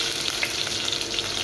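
Onions sizzling as they fry in a small casserole for adobo, a steady, close hiss with faint stirring and no talk.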